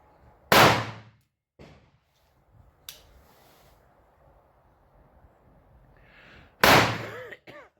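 Colt New Model revolver fired at a range, two loud sharp reports several seconds apart with quiet murmured talk between them.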